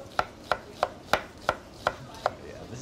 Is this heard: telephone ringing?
no